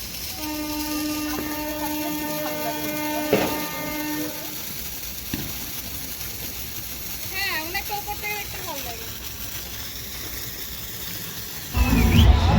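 Ground spinner firework whirling on the ground during Bhai Phonta celebrations, giving off a steady whistling hiss with a wavering tone. Later come faint voices and a sudden louder rush of noise.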